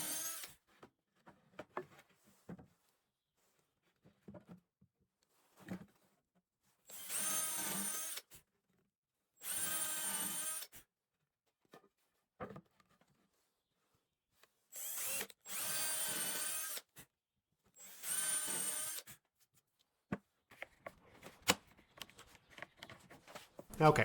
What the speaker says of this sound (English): It's a carbide countersink drill bit with a low friction depth stop.